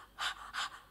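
A patient breathing heavily while a doctor examines him in a radio play: two loud, close panting breaths in quick succession, with a third starting at the end.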